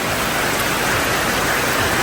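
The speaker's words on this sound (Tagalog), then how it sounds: "Grabe yung ulan. Napakalakas at baha na." Heavy storm rain in Damilag pours down in a dense, unbroken roar of falling water, loud and close, with no voices over it.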